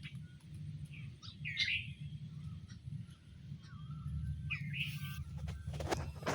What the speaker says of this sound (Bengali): এখানে কয় প্রকার পাখি আছে বলো তো?